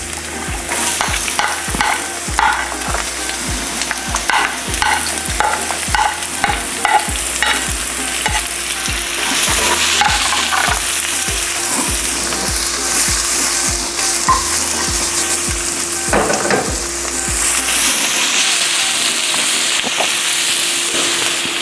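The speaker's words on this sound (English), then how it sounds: "we're going to add in some oil and start sauteing our onions and garlic" Onions and garlic sauté in hot oil in a wok, a loud steady sizzle with a rhythmic scraping and stirring clatter throughout, the stirring stopping near the end while the frying hiss continues alone.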